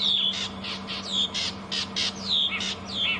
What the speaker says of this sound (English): You can also hear a go-away bird now calling in the distance.